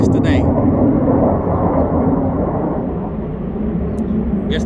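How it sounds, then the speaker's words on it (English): Fighter jets heading home the day after the Thunder over Louisville air show pass overhead as a loud, sustained, rumbling roar that slowly eases, with no voices. "Guess the fighter jets are going back home."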